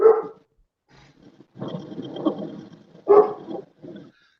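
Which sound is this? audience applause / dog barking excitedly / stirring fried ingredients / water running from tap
dog barking excitedly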